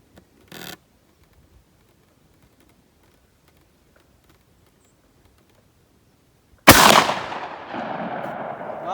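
A 12 gauge shotgun fires a single loud Fury slug at an outdoor range, a sharp blast with a ringing, echoing tail, preceded by a brief faint click or handling noise.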